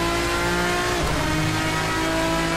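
A race car's engine in the Assetto Corsa racing game, a loud, steady high-revving drone that dips sharply as the driver brakes, then settles into a lower, rising pitch, continuous and close with no talking.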